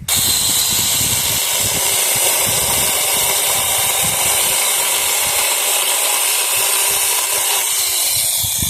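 A battery mini chainsaw cutting through a large tree branch while pruning a garden, a loud continuous buzzing whine with a rough hiss that holds steady throughout, close up.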